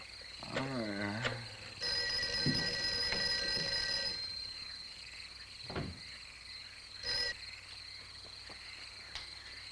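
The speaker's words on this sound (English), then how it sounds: "Mary, see if you can get Jan on the phone" A telephone rings repeatedly in a film scene with no one answering, the steady electronic trill recurring in bursts over a faint background with occasional low thumps.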